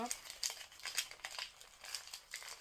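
A gift tied with string is unwrapped, its paper crinkling and rustling in quick, close bursts. The crinkling is fairly soft and keeps on without a break.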